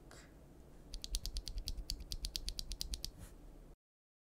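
Bolsa Supply Techno Violet linear keyboard switches, some lubed and some stock, are typed on a board in a quick run of about twenty crisp, clacky keystrokes close up, with no talking.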